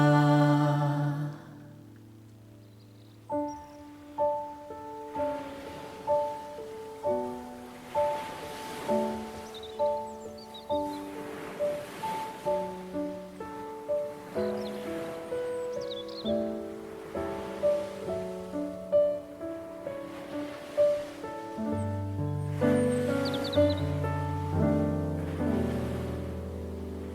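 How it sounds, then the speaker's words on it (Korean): Ocean waves wash in regular swells with occasional faint bird chirps, set beneath sustained, soft musical tones. "새소리와 또 파도 소리"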